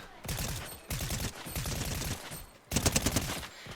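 Rapid gunfire from a low-recoil weapon in the Fortnite video game, sounding as several sustained bursts of quick shots that pause briefly between volleys, loud and close.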